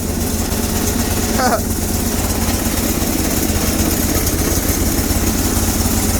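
A Bolens Hydro Eliminator tractor's 20HP Briggs & Stratton V-twin idles steadily and loudly up close with a constant throbbing drone, someone talking over it.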